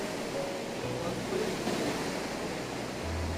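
Water rushes and merges at Bhimkund waterfall in Keonjhar, a steady broadband roar heard from a distance, with some wind buffeting the microphone.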